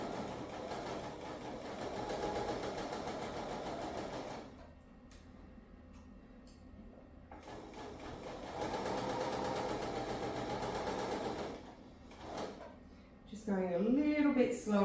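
A sewing machine stitches layered quilt fabric in close, fast bursts of whirring needle action, pausing briefly and slowing over a seam, while someone talks over much of it.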